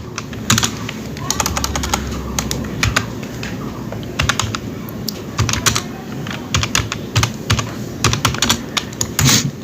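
Rapid, uneven clicks of typing on a computer keyboard while text is entered in Canva design software, close and crisp, arriving in short bursts with small pauses and a low background hum.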